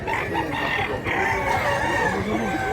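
A pair of bullstag roosters crowing and clucking nearby, several overlapping calls in a dense, continuous poultry chorus with little talk.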